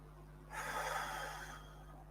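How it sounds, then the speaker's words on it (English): A single slow, deep meditative breath, soft and close, rising as an airy rush and fading away against a quiet background hum. "releasing the old with the out breath and bringing the new with the in breath"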